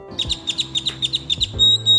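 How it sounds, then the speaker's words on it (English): A common grackle gives a quick series of about a dozen sharp, squeaky high chirps, followed by a longer, scratchy rising whistle, heard close and alone outdoors. "That's the call of a common grackle, a bird that looks black from a distance"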